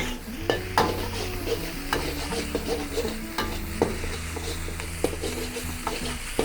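Spicy nasi goreng fried rice sizzles in a pan with a steady close hiss, punctuated by sharp spatula taps and scrapes at irregular intervals, and no talking.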